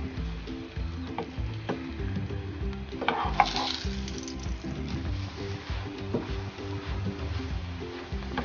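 An aloo chicken paratha fries in a little oil over medium heat, a soft steady sizzle with occasional light pats and scrapes, moderately close beneath a low, even background.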